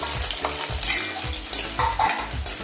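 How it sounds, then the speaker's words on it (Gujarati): Onion frying in oil sizzles loudly and close, with repeated stirring scrapes and spatula strokes every half second or so over a continuous hiss. "આપણે ડુંગળી ફ્રાય કરીશું."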